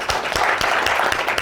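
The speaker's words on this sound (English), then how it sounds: "Big round of applause." A brief burst of dense audience applause at a property investing Q&A gathering, steady and loud for its whole length, with no clear voices over it.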